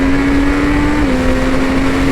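A Triumph Street Triple 765 RS motorcycle engine holds a loud, steady high-rev drone near its rev limiter, with a slight drop in pitch partway through and no pause.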